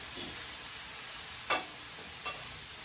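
Garlic sizzles softly in melted butter in a pan, with a steady low frying hiss and a couple of brief scraping stirs.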